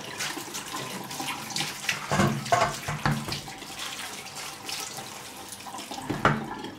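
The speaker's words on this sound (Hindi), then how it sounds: "और ठंडा पानी ऊपर से एक दफ़ा बहा देंगे इसके ऊपर।" Cold water pours from a tap over beef trotters sitting in a strainer, a steady splashing rush with brief louder surges, close by and with no talking.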